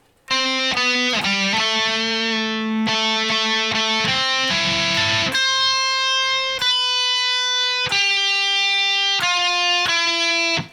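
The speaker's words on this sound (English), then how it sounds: "the lead guitar sounds something like this" Lead guitar line, played as a run of clear, sustained single notes that change pitch every second or so, with a slightly distorted tone, loud and alone with no talking.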